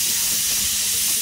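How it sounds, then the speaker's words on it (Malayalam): A pressure cooker vents steam while chickpeas cook for a wheat and chickpea puzhukku, giving a steady, bright hiss that lasts about a second with no voices. "4-5 വിസിൽ വരണം, കടല വേവണല്ലോ."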